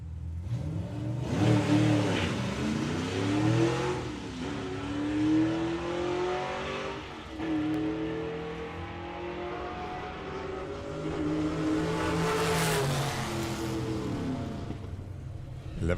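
A drag racing car rolls through a burnout, its engine revving in rising and falling waves, loud and close over sixteen seconds with harsh roar peaking near the end.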